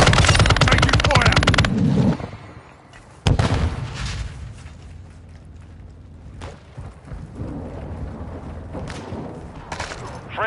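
Heavy gunfire in Warzone 2 (Modern Warfare II) online invasion mode: loud rapid automatic bursts, a pause, then more sustained firing and distant blasts, with game voice callouts.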